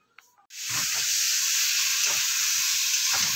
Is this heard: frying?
yes